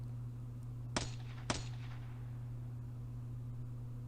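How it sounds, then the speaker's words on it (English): Two sharp gunshots from the video game Steins;Gate 0, about half a second apart, faint and brief over a steady low hum, each with a short ringing tail. "And then more gunshots."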